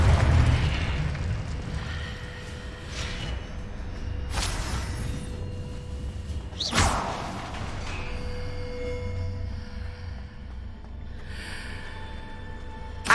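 Fire spells cast in Hogwarts Legacy burst into a few loud, booming explosions spaced several seconds apart, set over a continuous rumbling game soundscape with fainter magical whooshes between the blasts.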